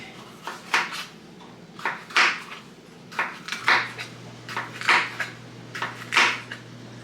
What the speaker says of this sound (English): I sure hope you guys can hear everything going on the video here with the dishes getting done and the dishwasher going.